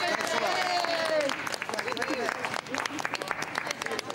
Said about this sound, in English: Everyone, clapping